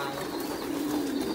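Pigeons coo at a pigeon farm, a soft throaty cooing that runs steadily amid a dense background of many birds, fairly near and continuous.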